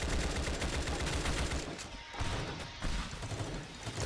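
Rapid, loud pistol gunfire from a video game rattles in a dense burst, with short gaps and renewed volleys, mixed with crashes; no voices are heard.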